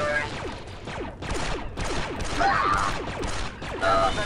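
Rapid bursts of blaster gunfire in the video game Star Wars Republic Commando, loud and nearly continuous with impacts and clatter, under occasional game voices.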